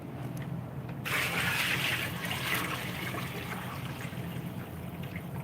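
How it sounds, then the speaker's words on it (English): Roughly 20 litres of tomato-tinged water poured into a large cooking pot in a bulk kitchen, a steady broadband gush that starts after a second and runs on evenly and close throughout. "So we're just going to pour that in."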